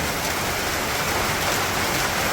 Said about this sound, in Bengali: বৃষ্টি জোরে নেমে গেল।